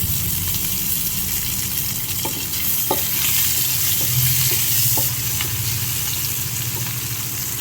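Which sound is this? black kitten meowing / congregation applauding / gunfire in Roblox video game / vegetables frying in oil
vegetables frying in oil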